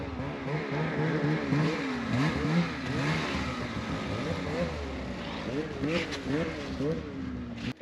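A snowmobile engine revs and drones with a wavering pitch as it tows a dead sled with a broken crank through soft, deep mountain powder. It runs loud and continuous, close by, throughout.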